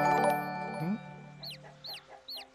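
Chickens cluck in the farming video game Summer in Mara, with short, fairly faint bird calls repeating over a tonal background score.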